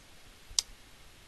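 A single sharp computer mouse click, brief and close, in otherwise quiet surroundings.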